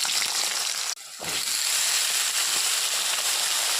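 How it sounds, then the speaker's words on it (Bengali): Pumpkin pieces dropped into hot oil with black cumin in a kadai set off a loud, steady sizzle. A brief dip near the start breaks it, then a dense, close frying hiss continues with no talk. "কালো জিরা ভাজা হয়ে গেছে, মিষ্টি কুমড় দিয়ে দেবো।"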